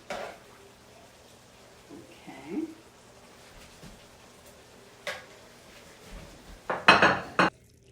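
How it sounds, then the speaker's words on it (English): Thick taco soup being ladled into bowls: sparse clinks and scrapes of a ladle against a pot and dishes, growing into a cluster of louder knocks near the end, with quiet talk in places. "Let's dish some out."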